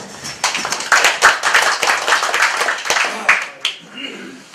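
A small audience of older adults claps in an indoor gathering, brisk close claps forming a short round of applause that tapers off with a few final claps and faint chatter.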